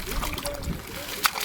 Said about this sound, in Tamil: இப்போ நான் வந்து தண்ணியில் ஊற்றி கழுவி வெட்டேன்